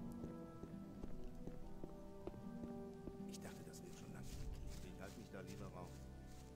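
Rain falling in the video game Gothic, a soft steady patter under a man's speech and game music, with footsteps and other in-game sounds mixed in.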